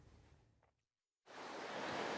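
Sea waves wash against the eroding cliffs and beaches of Mayotte, a broad steady surf hiss that stops briefly into silence, then returns loud and continuous with no voices.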